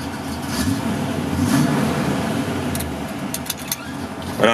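A Citroën C2 petrol engine idles close by with a steady low rumble, then the starter cranks briefly near the end, with a few faint clicks in between.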